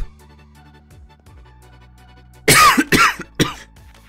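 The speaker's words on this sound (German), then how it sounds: "Entschuldigung, musste da mal kurz husten." Someone coughs three times close to the microphone, a loud harsh burst followed by two shorter ones, over quiet background music in a Minecraft session.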